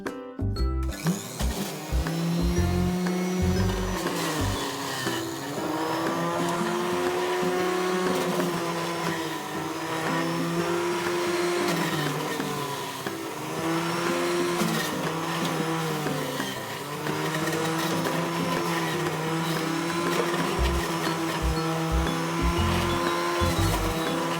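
A kitchen juicer-blender runs loud and close for the whole stretch, whirring and grinding ingredients for a homemade health drink. Its pitch dips and climbs again as the load shifts, with brief stops and starts near the beginning and end.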